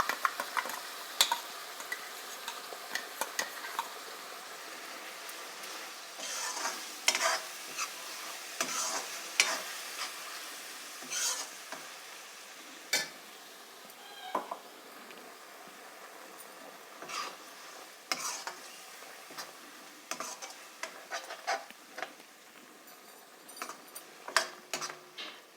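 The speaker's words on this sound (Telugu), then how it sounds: "ఆ పేస్ట్ని కూడా దీనిలో వేసేసి రెండు కూడా బాగా ఫ్రై చేసుకుందాం" Onion paste for goat head curry fries in a pan with a quiet, steady sizzle. Frequent scrapes and clicks from stirring punctuate it, close and alone.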